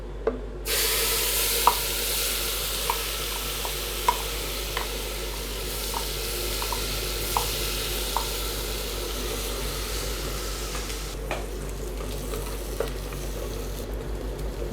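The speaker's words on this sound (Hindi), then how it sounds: "बस अब ये मसाले को हमें भूनना है 10 मिनट तक" Spices stirred and roasted in a pot for a sattvic home-cooked dish, steady low sizzle throughout with soft periodic scrapes of a spoon, fairly close, no talking.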